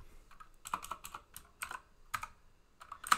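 Computer keyboard typing while working in an Excel spreadsheet, a quick irregular run of close, crisp key clicks and taps, ending on a sharper press, with no talking.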